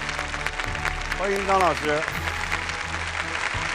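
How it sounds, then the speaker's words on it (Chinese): Applause from a studio audience welcoming a guest speaker, an archaeology institute director, on a televised lecture show, a steady clapping wash running under a host's voice, with musical tones rising briefly in the middle. "让我们把热烈掌声送给山西省考古研究院华夏文明研究所的张光辉所长，掌声欢迎张老师"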